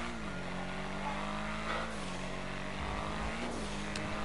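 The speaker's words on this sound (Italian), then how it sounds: "Ora proviamo questa macchina" An Obey 8F Drafter sports car in the video game GTA 5 drones with a steady, loud engine hum whose pitch dips and rises slightly as the revs shift, with no voices.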